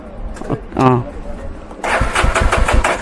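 A Yezdi Adventure motorcycle with its dB killer removed cranks and fires up loudly, breaking into a harsh, throbbing engine roar after brief nearby talk.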